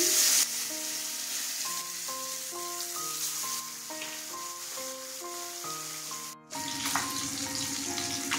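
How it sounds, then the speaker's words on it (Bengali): Katla fish pieces sizzle in hot oil, a soft steady frying hiss under melodic background music, with a louder spitting burst near the end as more oil crackles. "তেল গরম হয়ে গেছে, মাছ ছেড়ে দিচ্ছি।"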